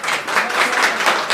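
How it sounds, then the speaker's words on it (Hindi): A crowd of people applauds steadily in the background of a televised interview, the dense clapping loud and sustained throughout without pause. "देखो ये लोग भी आपकी ताली बजा रहे हैं पीछे"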